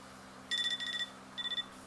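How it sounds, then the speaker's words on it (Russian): An alarm clock beeps during an aquarium water test for nitrites, in two short bursts of rapid, shrill electronic beeps with a brief pause between them. The beeps stand alone over a quiet room hum. "Итак, будильник сработал."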